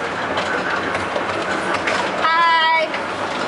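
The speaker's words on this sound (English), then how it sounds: "on our break we're riding a choo-choo train" Tourist choo-choo train ride on Maui, with rumbling carriage noise throughout and a clear whistle-like toot late in the sequence, heard up close from on board among ambient chatter.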